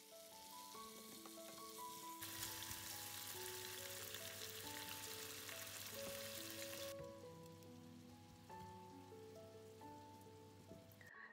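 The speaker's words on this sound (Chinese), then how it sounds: "最后再将刚才切好的洋葱片在锅里面也煎一下。" Sliced onion frying in a pan sizzles with a steady hiss that surges loud for several seconds and then settles back, under gentle melodic background music.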